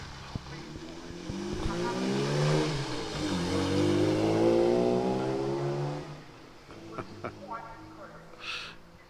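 A classic car at the Helmingham Hall Classic and Sports Car show revs its engine loudly and pulls away, the tone rising and falling as it drives off before fading, with crowd voices around it.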